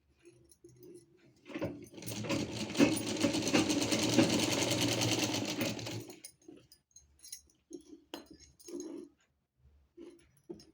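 A sewing machine stitches a fabric joint on a gown in one loud, fast, steady whirring burst of about four seconds, then stops; short handling clicks and knocks follow.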